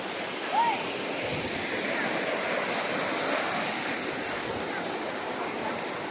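Waterfall at Chiling Falls near Kuala Kubu, a steady broadband rush of falling water filling the scene continuously, loud and close with no breaks.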